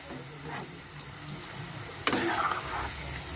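Cabbage pakoda frying in hot oil, a steady low bubbling sizzle with a louder burst of crackling as pieces are turned over partway through, close by.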